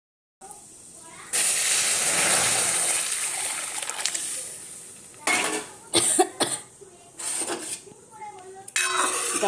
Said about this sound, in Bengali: ডালটা একটু ফোড়ন দিয়ে দিলাম।